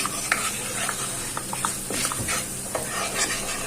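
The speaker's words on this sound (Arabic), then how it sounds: "هنفضل نقلب كده زي ما انتم شايفين كده اهو" Food being turned and stirred in a hot pan, with repeated scraping clinks of a utensil against the pan over a continuous sizzling hiss, close and busy throughout.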